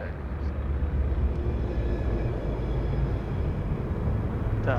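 A jet airliner rolls for takeoff at Sydney Airport on a windy day, a steady broad roar with low rumble holding at constant loudness throughout, with faint voices underneath.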